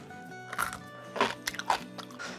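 Crisp bites into a homemade Korean pickled cucumber (oiji) aged two weeks, several close crunches followed by chewing, no speech.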